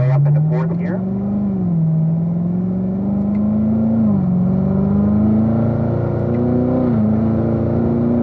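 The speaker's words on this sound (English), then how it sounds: "We'll go ahead and get rolling here and make our way up into fourth gear." A Corvette Z06 accelerates hard on a race track, its loud engine note rising in pitch, then dropping briefly at each upshift as it climbs toward fourth gear, heard close from inside the car.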